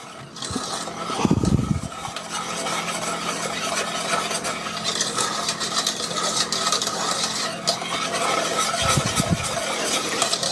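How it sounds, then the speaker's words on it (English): Egg yolk mixed into milk for coffee ice cream, a steady close scraping and stirring of a utensil against a bowl with a couple of brief low bumps, no voices. "I'm going to mix that egg yolk into that milk."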